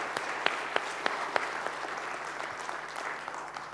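A conference audience at a B-sides security event claps in a steady round of applause, with individual sharp claps standing out from a moderately distant crowd, and no speech over it.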